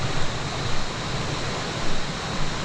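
A mountain stream on the Annapurna Base Camp trek in Nepal rushes steadily, a loud, close, unbroken roar of flowing water with slight surges.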